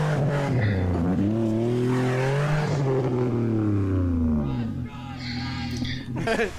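A four-wheel drive vehicle drives hard through a creek on Creek Rd in the Watagans, its engine roaring loud and close and rising in pitch as it revs, then dropping away, with a burst of water and gravel noise near the end.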